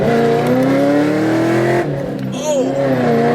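Cammed Camaro SS with an LS V8, headers and true dual straight pipes, revving loud and close: a sustained, rising roar that briefly drops, then climbs again while people talk over it.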